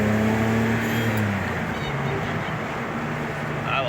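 A 1976 Datsun 280Z hot rod engine droning steadily while driving over a bridge, loud and continuous with a low harmonic hum, wind and road roar filling the background.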